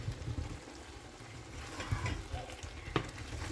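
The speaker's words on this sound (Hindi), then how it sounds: "और अब इसमें ऐड करेंगे हम अपनी गोभी।" Cauliflower being added to aloo masala frying in a pan, a steady low sizzle with light stirring and scraping, close and moderately quiet, with a small clatter near the end.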